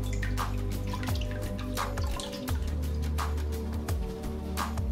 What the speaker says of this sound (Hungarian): Előbb bele kell áztatni egy kicsit, hogy így buborékoljon.